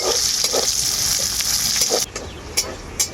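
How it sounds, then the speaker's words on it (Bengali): Chopped green and red chilies fry loudly in a pan for a chana dal semolina pulao. A spatula scrapes and stirs them through a continuous close sizzle, with a few sharper clacks near the end and no voices. "লঙ্কাটা দেওয়ার পর আবারও কিছুক্ষণ ভেজে নিলাম নাড়াচাড়া করে"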